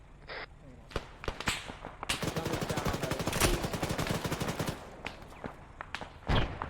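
An AGS grenade launcher fires in ARMA 3, a rapid burst of sharp, evenly spaced reports at middling distance, followed by scattered single shots and faint radio chatter.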